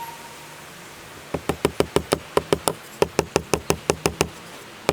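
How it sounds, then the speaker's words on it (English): Lightweight hammer driving small brads into wood, about twenty sharp, close taps in quick, fairly even bursts with brief pauses, no talking. "Using a lightweight hammer, it works out a lot better for this."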